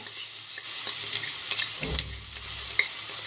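Cumin, coriander, turmeric and chili fry in hot oil with a steady close sizzle, broken by stirring scrapes and a low thump near the middle, then a small sharp clink, with no voices.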